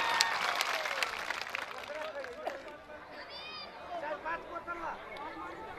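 A crowd at a wrestling match between Nepal and India claps and cheers, a burst of applause that fades into crowd chatter while someone speaks loudly over it.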